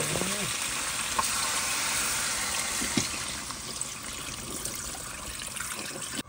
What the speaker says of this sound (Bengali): মাংস কষানো হয়ে গেছে, জল দিচ্ছি